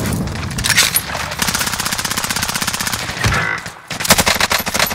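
Rapid machine gun fire in a video game crackles in long, dense bursts, loud and close, broken by a short pause before a final burst.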